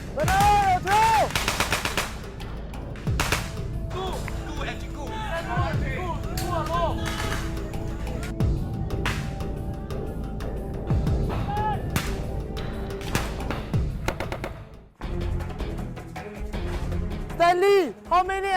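Rapid small-arms and machine-gun fire during a Singapore Army officer-training exercise, loud close bursts and single shots repeating under shouted commands and radio-style voices throughout.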